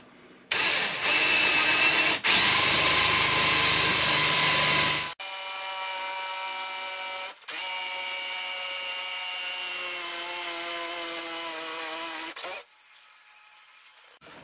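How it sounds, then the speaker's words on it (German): A power drill bores a 13 mm pilot hole, likely into a wooden log for a Swedish fire torch, running loud and steady with a whining tone, halting briefly three times before stopping. "Ich werde das deswegen eine 13 mm vorbohren."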